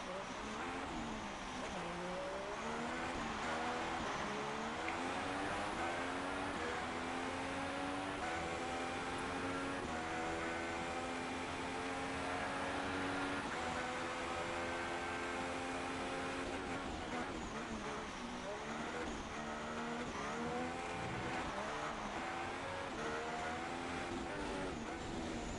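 Onboard a Ferrari race car on the Abu Dhabi circuit, the engine howls continuously, its pitch climbing and dropping as it revs through gear changes and brakes for corners, loud and close throughout.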